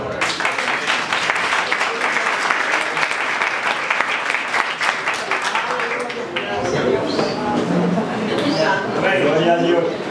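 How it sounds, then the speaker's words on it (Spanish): Loud, sustained applause from a church congregation fills the room, then fades as a voice begins speaking over the last scattered claps. "Démosle un fuerte aplauso"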